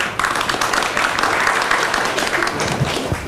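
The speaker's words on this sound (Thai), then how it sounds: "ขอเสียงปรบมือให้คุณตรีวุฒิศรีเกตด้วยครับ" A studio audience claps steadily for a guest named Triwut Srikate, a dense, even patter of many hands that holds at a constant level throughout.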